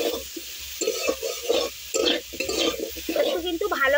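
Freshwater mussel meat is fried with chili, coriander and cumin powders in a pan. Rhythmic, wet, squelching stir strokes pulse over a low, close sizzle.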